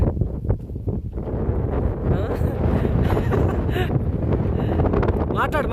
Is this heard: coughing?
no